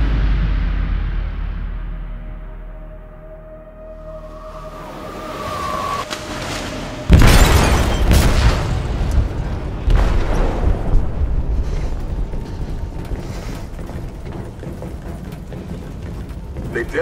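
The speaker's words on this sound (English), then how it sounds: "They detonated an explosive in the hold" An explosive detonates in a ship's hold in Detroit: Become Human, a sudden heavy boom after a fading rumble, followed by sustained roaring, creaking and mechanical clatter with further jolts.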